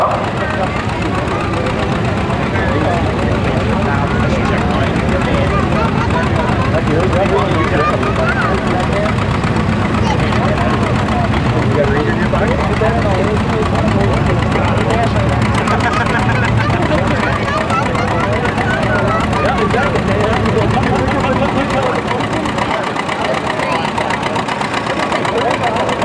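Antique tractor engines run loud and continuous at a tractor pull in the 6,000-pound antique class, a dense rumbling drone with crowd babble mixed in throughout.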